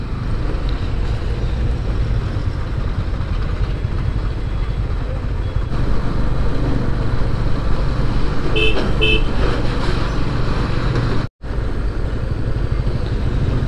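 Dense, steady traffic rumble fills the scene, with a couple of brief horn toots cutting through midway; engines idle and drone continuously close by.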